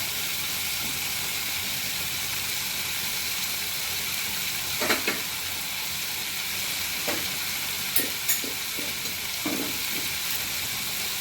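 Water spinach (kalmi greens) fries in a pan with a steady, moderate hiss, broken by a few soft scrapes and clinks as it is stirred.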